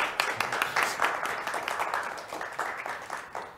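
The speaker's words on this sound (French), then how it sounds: "Une bonne main d'applaudissements," An audience applauding an award winner at a literary prize ceremony in Abitibi-Témiscamingue, dense steady clapping from a crowd filling the room.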